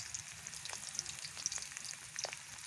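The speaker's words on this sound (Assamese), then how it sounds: "কণীখিনি ভাজি ল'ম।" Five local eggs fry in hot oil, a soft close sizzle with scattered small pops and crackles, no voices.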